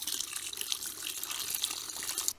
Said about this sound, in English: So I'm just going to use a watering jug first.